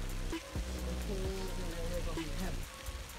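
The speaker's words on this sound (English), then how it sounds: "It's raining here, but we're on the farm, man." Steady rain falling on a farm, a continuous close hiss of drops on surfaces with some low rumbling underneath.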